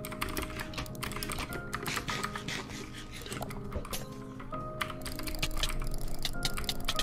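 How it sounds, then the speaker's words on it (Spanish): Computer mouse clicking, a string of quick, irregular clicks close to the microphone, heard over steady tonal background music. "Ese sonido del clic de ratón está chulo."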